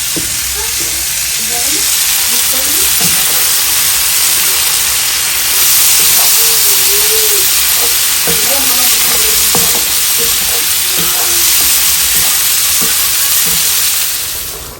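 Shrimp and potato curry frying in a pan and being stirred, a steady close sizzle and hiss with scattered clinks and scrapes of the spoon throughout.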